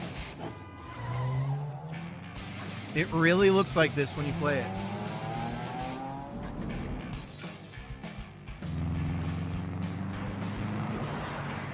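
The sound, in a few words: cars racing and skidding in Hot Wheels video game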